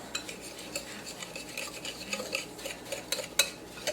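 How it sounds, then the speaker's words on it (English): Dry meat rub mixed with brown sugar, stirred in a bowl: a steady scrape and clink of a utensil against the bowl, soft repeated strokes with a few sharper taps, close and alone. "Just mix it all until it's well combined."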